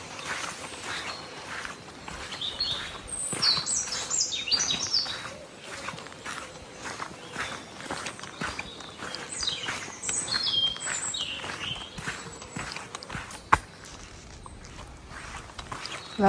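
Bright bird chirps and song phrases come and go over a steady outdoor background on the Camino trail between Irun and San Sebastian, Spain, with occasional footstep-like thumps; no talking.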